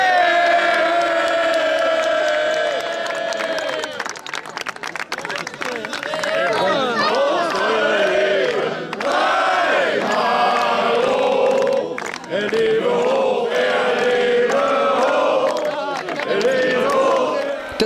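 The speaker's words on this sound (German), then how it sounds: "Das Volk jubelte seinem neuen König zu." A crowd at a traditional-costume marksmen's festival cheers for the new king, with excited shouts, whoops and overlapping voices rising and falling throughout, fairly close and loud.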